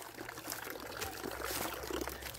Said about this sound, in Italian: Chissà se questa fontanella è acqua potabile